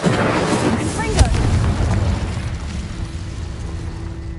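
Confringo blasting spell from Hogwarts Legacy goes off with a loud broadband burst and boom at the start, then a sustained roaring rush of noise that slowly thins out.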